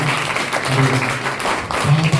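Applause for the staff at a hospital event, a crowd clapping steadily throughout with a voice speaking over it.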